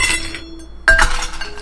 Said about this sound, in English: First thing you want to do is put a little bit of ice in your cocktail glass.